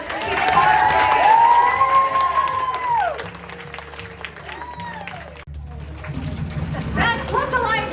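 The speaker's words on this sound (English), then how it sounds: "Round of applause for Team Cosplay." An audience at the Spooky Empire Summerween 2025 costume contest claps for a cosplay team, a broad, steady wash of applause and cheering running under a loud voice and event sound throughout.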